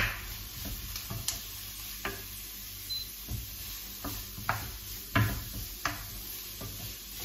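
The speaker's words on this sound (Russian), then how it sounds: "вот это я сейчас обжарю. И потом прямо на этой же сковородке обжарю цукини" Vegetables sizzle softly in a frying pan, with zucchini to be fried next in the same pan; scattered stirring scrapes and taps break through the quiet, steady hiss.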